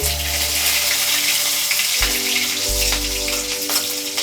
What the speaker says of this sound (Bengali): গরম হয়ে গেছে, আমি এর মধ্যে একটা চেরা কাঁচা লঙ্কা আর কালো জিরেটা ঢেলে দেব।